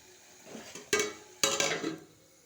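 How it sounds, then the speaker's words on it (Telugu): Metal lid set onto a cooking pot of ridge gourd with moong dal, giving two sharp clanks about half a second apart with a brief rattle after, close by in a quiet kitchen. "ఇప్పుడు కొంచెం మూత పెడతాం"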